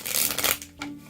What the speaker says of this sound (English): I don't know why I'm shuffling this deck.